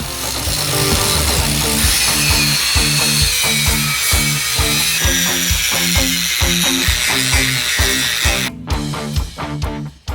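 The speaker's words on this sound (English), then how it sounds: "I'm gonna grind all the 4 scale off so we can restack it as well." An angle grinder grinds forge scale off a Damascus steel billet for a spear, a loud continuous abrasive roar with a rhythmic pulsing undertone that cuts out abruptly near the end.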